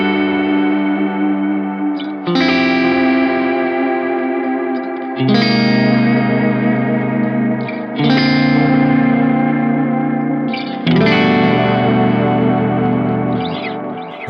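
Electric guitar through an Anasounds Utopia Deluxe delay pedal set for an 80s-style digital sound, big sustained chords struck every few seconds, each trailing into bright repeating echoes, loud and without talk.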